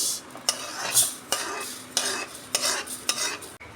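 Sesame seeds roasting in a wok are stirred with a utensil, making about seven sharp scraping strokes in an uneven rhythm over a faint sizzle. The sound is close and there is no talk.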